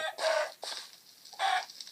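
A Minecraft Pocket Edition chicken clucks twice, with a faint cluck between them. The game sound is clear and close, with no talk.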